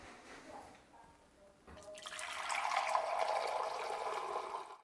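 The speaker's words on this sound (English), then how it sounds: "then we add some cold water," Cold water pours from a container into a brine mixture of garlic granules for cedar-wood salmon, a steady gushing splash that swells after a quiet start and keeps running to the end.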